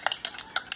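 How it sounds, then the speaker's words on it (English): A spoon stirring detox tea in a cup, four or five quick light clinks against the sides in an irregular rhythm, close and fairly quiet. "I'm gonna stir it because it's in a cup."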